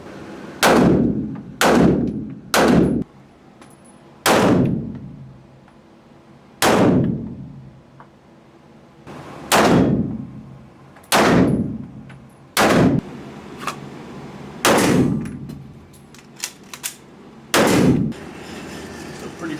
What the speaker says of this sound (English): I think this is a pretty ample way to shoot from various firing positions with single hand draws and presses